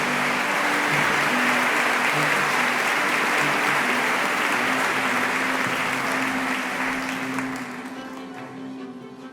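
A long, dense wave of audience applause at an Alzheimer foundation award ceremony, loud and sustained for several seconds before tapering off at the end.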